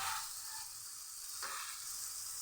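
Baby shrimp cooking in a covered pan for kinamatisan, giving a steady soft sizzle and hiss, faint and even throughout with no one talking.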